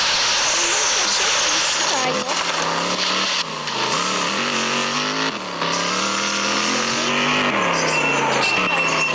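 Engine of a car being driven in a hide-and-seek round of a video game, a steady revving drone whose pitch rises and falls between gear shifts, continuous and close, with talk mixed in.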